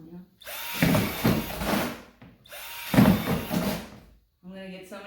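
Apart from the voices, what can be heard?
power drill drilling holes in worm farm bin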